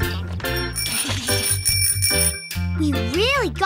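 Cartoon bell ringing in a children's animated show, a bright bicycle-style bell chiming repeatedly over musical tones, loud and close, with a voice briefly sliding in pitch near the end.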